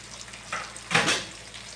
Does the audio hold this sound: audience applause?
no